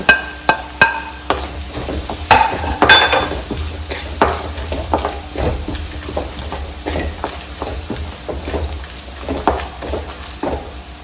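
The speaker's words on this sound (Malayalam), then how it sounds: "ജസ്റ്റ് ഒന്ന് ഇളക്കി കൊടുത്തതിന് ശേഷം ഞാൻ പച്ചമുളകും അതുപോലെ തന്നെ ഇഞ്ചിയും ഇട്ടൊന്ന് ഇളക്കും." Green chillies and ginger are stirred and sautéed in a hot pan, a spoon scraping and knocking against the metal in a string of sharp, irregular strokes over a steady sizzle.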